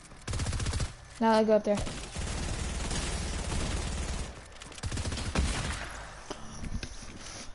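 A rapid-fire weapon in a video game lets off fast, dense bursts of shots, loud and close, over near-constant talk from a player.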